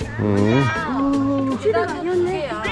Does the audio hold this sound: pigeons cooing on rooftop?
no